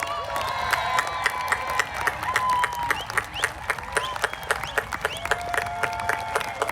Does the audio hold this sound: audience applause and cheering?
yes